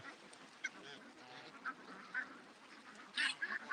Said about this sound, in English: There's some ducks coming over.